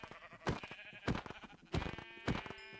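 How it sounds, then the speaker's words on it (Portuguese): Sheep bleating in a video game, four loud separate bleats spaced roughly evenly over a few seconds, with faint game background tones between them. "Aí está a ovelha."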